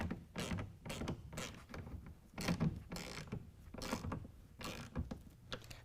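Rail clamp of a Gator EFX hard-fold tonneau cover being tightened down on a 2017 Ford Raptor truck bed, a run of rhythmic ratcheting clicks and creaks close by, steady and unbroken.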